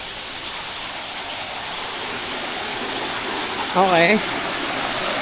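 Tumagiti Falls, a waterfall with a clear basin, gives off a steady, loud broadband rush throughout, with a brief spoken word near the end.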